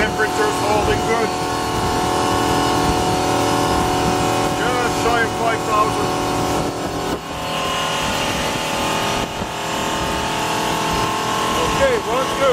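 A 2005 Sea Ray 240 Sundeck engine runs hard near 5,000 RPM, a loud sustained drone with wind noise while people talk over it.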